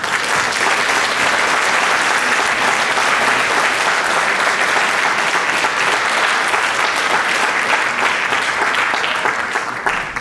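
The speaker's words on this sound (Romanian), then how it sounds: "aș dori să vă aplaudați pentru ca să vă audă și cei de departe." Loud, dense applause from a large audience at a Christmas show fills the whole stretch in an unbroken roar of clapping.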